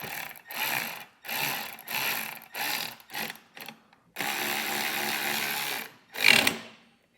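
Flathead bolts snugged with a 5.5 mm Allen key while fitting Air Lift LoadLifter 7500 XL air helper springs on a 2024 GMC truck, heard as a series of close, rapid ratcheting bursts, one longer run, then a brief clank.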